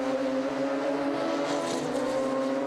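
A Radical SR3 race car engine drones steadily at Thruxton circuit, a sustained buzzing hum holding a fairly constant pitch with no voices.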